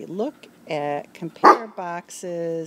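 Dogs bark in the background while a person talks, with a sharp bark standing out near the middle between spoken phrases.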